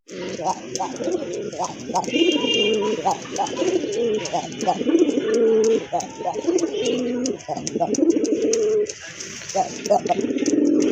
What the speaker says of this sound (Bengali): আরেক জোড়া কবুতর এটা হচ্ছে মাদ্রাজি গোল্লা